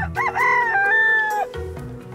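A rooster crows loudly nearby in one long drawn-out call, with a few short clucks and rustles around it.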